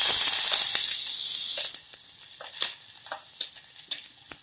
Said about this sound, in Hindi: तेल गर्म हो चुका है, अब हम इसमें एक प्याज को जिसे बारीक काट लिया है उसे डाल देंगे।